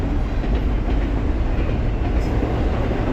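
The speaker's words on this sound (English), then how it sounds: "And here come the mid-train pushers, chugging away." Freight train with mid-train pusher locomotives chugging through the desert, a steady, loud rumbling roll with faint clickety-clack that holds constant throughout, close by and without talk.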